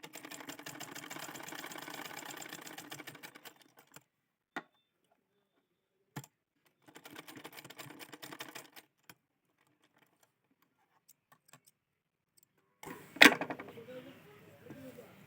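A sewing machine runs double stitching on a double-bowl blouse in two steady bursts, with quiet pauses and a few isolated clicks between them, then a sharp clatter near the end.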